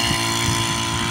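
A motor on a pesticide sprayer in a farm field runs steadily with a droning hum, constant and close for the whole moment.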